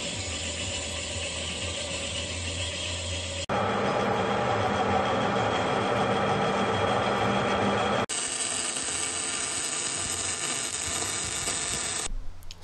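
A Volvo 740 drive shaft being cut through, a loud, harsh, steady mechanical grinding that runs in three long stretches with abrupt breaks between them, fading out right at the end.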